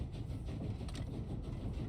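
Train running steadily in a video game, a low rumbling rail sound at a quiet, even level with no talk.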